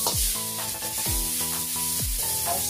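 Ingredients sizzle and fry in hot oil in a wok while being stirred, a loud, steady crackling hiss with repeated scraping strokes of a spatula against the pan.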